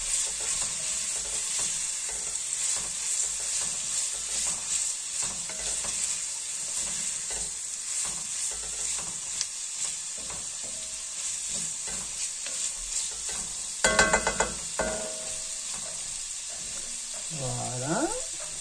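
Carrots cooking slowly in a pan are stirred while they sizzle gently, with soft scraping and clinking throughout, a brief louder clatter near the end, and a voice speaking faintly in the background.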